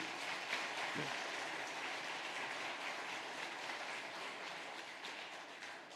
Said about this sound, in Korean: 우리 모든 회원들을 위해서, 성도들을 위해서 큰 격려의 박수 한번 부탁드려도 될까요?